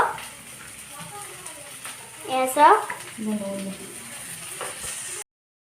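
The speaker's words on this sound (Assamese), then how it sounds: "এতিয়া মাহী নুডলছখিনি কেৰাহীটোত দি দিব আৰু ভাজিব" Hakka noodles frying in a wok, with a bright sizzle that swells midway and then settles, heard close up while someone talks briefly over it.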